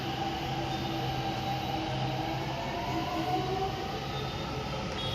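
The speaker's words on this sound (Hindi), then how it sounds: "फाइनली हमारी मेट्रो भी आ चुकी है।" A metro train rumbles into a station with a steady loud mechanical hum and faint metallic whine, sustained and close, with no voices.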